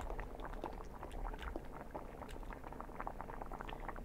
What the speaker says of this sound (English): the pot is boiling